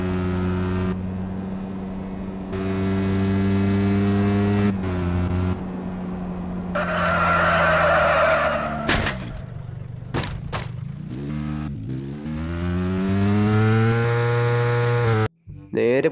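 Stunt bike engine in the video game Mad Out 2, revving in rising and falling whines with sputtering bursts and brief cutouts, loud and close.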